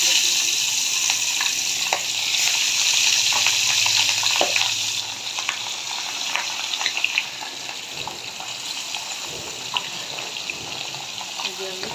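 Pabda fish frying in hot oil in a frying pan: a loud, steady hissing sizzle with scattered pops and spits, easing a little in intensity partway through.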